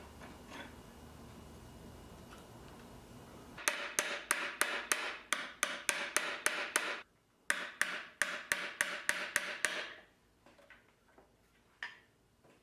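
Sharp, rapid hammer strikes drive a roll pin into a T56 manual transmission shifter during a mid-shift conversion for a 1964 Chevrolet C10, about twenty close metallic taps in two quick bursts with a brief pause, then a few scattered knocks.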